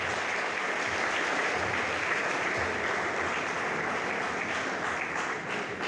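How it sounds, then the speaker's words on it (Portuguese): A church congregation applauds in a steady, dense wash of clapping that holds evenly from start to finish at moderate volume, without talk. "com uma salva de palmas para Jesus"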